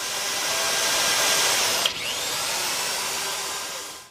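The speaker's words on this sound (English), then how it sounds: "use an auger and taking a drill and trying to slowly drill through that really tough concretion" A power drill fitted with an auger bores slowly through tough concretion, a hard build-up of sand, sediment and iron corrosion, giving a steady, loud whirring grind that dips briefly partway through.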